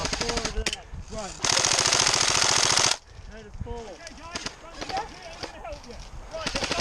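An airsoft game with a Tokyo Marui SCAR L fires a sustained rapid burst of close snapping shots, then scattered single shots and short bursts, while players talk and call out throughout.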